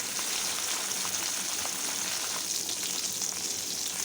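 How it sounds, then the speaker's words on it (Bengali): Steady, dense sizzling of tilapia fish frying in hot oil, with crackles and pops throughout and no voices. "মাছটা একটু বেশ ভালো করেই ভেজে নেবো"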